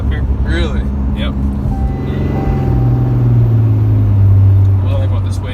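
A 2016 RAM Cummins diesel pickup with 439K miles and a deleted emissions system accelerates on a tow tune, its engine note rising into a loud, building rumble from inside the cab while people talk.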